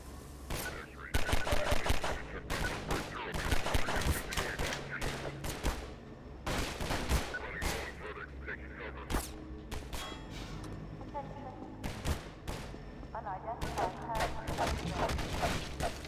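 Rapid bursts of gunfire from the video game Half-Life 2, sharp automatic volleys and single shots cracking close and loud in clusters with brief gaps.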